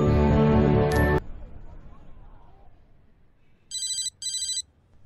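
A telephone rings with two short electronic trills, clear and fairly loud. They follow a loud burst of tonal music that stops abruptly, then a quiet stretch.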